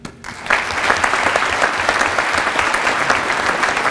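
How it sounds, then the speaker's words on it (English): Audience at a military commitment ceremony breaks into sustained, dense applause for graduating high school students entering service, loud and continuous after a brief quiet start. "One more round of applause for all of our students here today."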